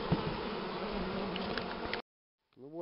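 Honeybees buzz in a dense, steady drone as they are driven out of a hive with a drone-laying worker, close and loud for two seconds before cutting off, then a voice starts speaking.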